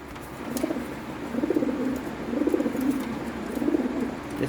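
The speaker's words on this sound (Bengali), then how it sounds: "ব্রিডিং করতেছে ফার্স্ট ক্লাস এক জোড়া কবুতর" A pair of Lahori pigeons coo in soft, repeated rolling phrases, close and fairly quiet over a faint background hum.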